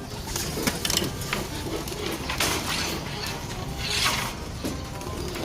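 Racing pigeons coo close by in soft repeated throaty calls while wings flutter and rustle in bursts as the birds are released, with faint background activity.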